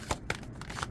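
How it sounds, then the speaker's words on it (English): Large, thick tarot deck being shuffled, giving a quick series of papery riffling and slapping bursts, close and moderately loud, with no voice over it. "These cards are hard to shuffle because they are so"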